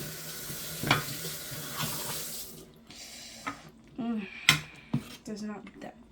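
Braised oxtail being stirred in a pot after about 1 hour and 15 minutes of cooking, with a few scraping clinks of a utensil against the pot, a brief wet squelch, and a voice speaking nearby.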